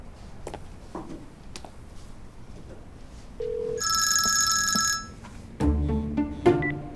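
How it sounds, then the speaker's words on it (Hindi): A bright electronic telephone ring sounds for about a second amid faint room noise, followed by a short beep and louder tonal bursts. "मैं फिर भी एक बार अप्पू को फोन करके कंफर्म कर लेती हूँ।"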